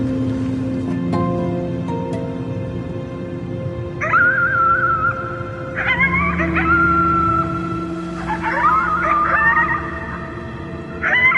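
Howling at the moon in the game Before Your Eyes: a drawn-out wavering howl rises in several long wailing phrases, loud and close over a soft musical drone, likely a human voice imitating a wolf.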